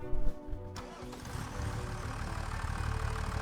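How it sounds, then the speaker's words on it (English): A tractor in Farming Simulator 25 cranks and starts, then its engine settles into a steady, moderately loud running drone as it drives off, with no talk over it. "There he goes in his nice tractor."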